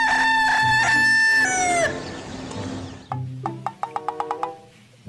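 A rooster lets out one long, loud crow close by, then after a pause gives a quick run of short, sharp clucks.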